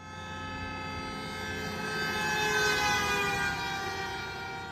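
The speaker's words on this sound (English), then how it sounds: "we all know what it sounds like when a car passes by us blowing its horn" A car sounds its horn steadily while passing close by, the sustained tone swelling louder toward the middle and easing off after, with its pitch bending downward from the Doppler effect as it goes past.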